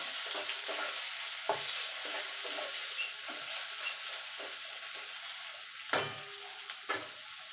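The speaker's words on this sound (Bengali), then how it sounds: "পেঁয়াজটাকে একটু লাল লাল করে ভেজে নেবো" Chopped onion frying in oil until reddish gives a soft, continuous sizzle, punctuated by a series of light clicks and scrapes as a spatula stirs the pan.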